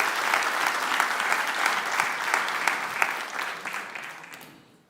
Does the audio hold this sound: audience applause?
yes